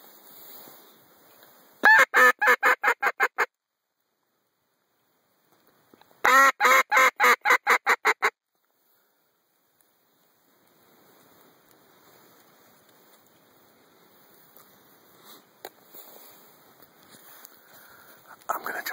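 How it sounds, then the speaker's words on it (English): Mallard ducks calling while flying in during a duck hunt: two loud, rapid runs of quacks, close by and separated by silence, followed by faint outdoor background noise. "got some mallards coming in"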